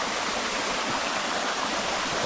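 A rushing stream swollen by heavy rain, a loud, steady broadband roar of flowing water that fills the whole moment without pause, and no voices.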